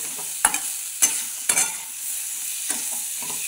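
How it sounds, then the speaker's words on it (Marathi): Chopped green tomatoes for a village-style chutney are stirred in a pan, with a steady faint sizzle under several distinct scraping strokes of a spoon, roughly evenly spaced, close up and alone. "हे कच्चे टोमॅटो कापून घेतलेले तर हे पण याच्यामध्ये टाकून द्यायचं। असं छान हलवायचं।"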